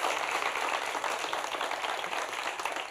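Audience applause, a dense, steady wash of many hands clapping continuously at close range, sustained without pause.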